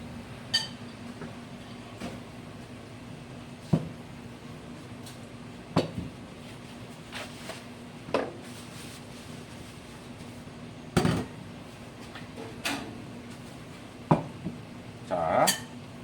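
Sporadic clinks and taps of utensils against a bowl while chilled jellyfish salad is tossed with a sweet-sour dressing, a dozen scattered knocks over a low steady hum with no talking.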